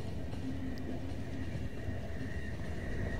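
Train running in the video game The Final Station: a constant loud rumble of wheels on rails with a steady mechanical hum, continuous and close.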